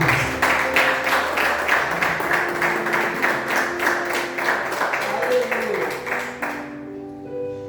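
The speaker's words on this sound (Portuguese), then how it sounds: "pode aplaudir o Senhor Jesus" A church congregation at a Renovated Baptist service applauds together, with steady rhythmic clapping throughout that fades near the end while a sustained tone and voices continue underneath.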